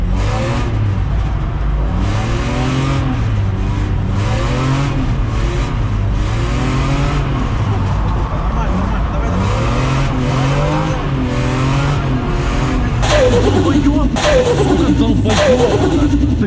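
A BMW E36 drifts on a street: the engine revs rise and fall again and again in loud close bursts, with tyre scrubbing and harsher revving near the end, and people talk over the noise.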